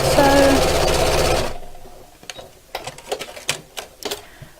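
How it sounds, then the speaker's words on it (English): A domestic sewing machine runs straight across fabric in a fast, even whirring burst, then stops, followed by scattered soft clicks and taps of handling. "I'm sewing straight over the top"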